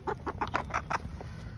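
Chickens cluck in a rapid, uneven series of short calls, close and fairly loud over a low background rumble, with no voices.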